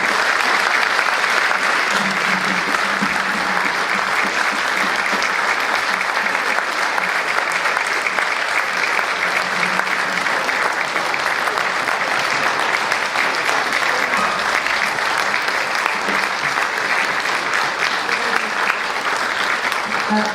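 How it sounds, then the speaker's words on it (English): A large audience in Espanola, New Mexico applauds the state's governor, Michelle Lujan-Grisham. The clapping is dense and sustained at an even, loud level for about twenty seconds, and no other sound is evident. "if we could give the governor of New Mexico a round of applause"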